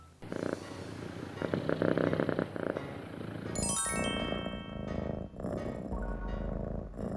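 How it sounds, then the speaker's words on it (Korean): A cat purrs close up with a low, continuous rumbling vibration, joined midway by some light tinkling and clinking sounds. "골골송은 영어로 퍼링이라고 하는데요"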